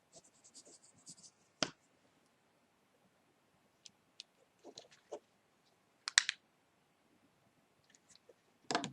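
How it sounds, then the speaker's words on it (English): Faint, sparse pen-on-paper scratches and light taps while readings are written down in a quiet room, with short scribbles separated by long silent gaps and one or two sharper clicks. "Now, I need to write down the readings on that."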